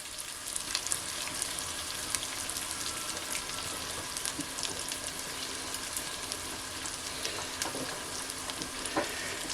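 Tomato paste sizzles and fries in a pot as the base for a Lenten orzo and tomato soup, a steady, dense crackle with a few faint stirring scrapes, continuous and close throughout.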